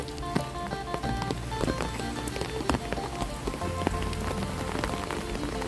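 Steady rain patters on a surface, with scattered drops tapping distinctly over a constant wash of falling water.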